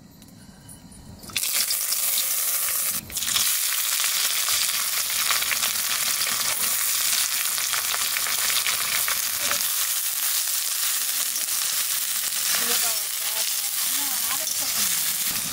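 Cloves, cinnamon, cardamom, dried red chili and bay leaf hit hot oil. A sudden loud, broadband sizzle starts after a quiet moment and continues steadily and closely, with faint stirring scrapes and a brief interruption early on.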